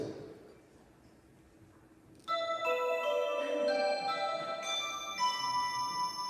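After a couple of quiet seconds, an electronic keyboard begins playing a chiming, bell-like patch with overlapping sustained notes.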